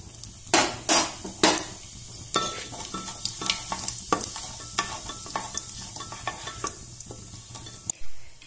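Cumin seeds and a pinch of asafoetida sizzle in hot refined oil inside a pressure cooker for mixed vegetable tahari, a crackling fry punctuated by loud metallic spoon scrapes and clinks against the pot.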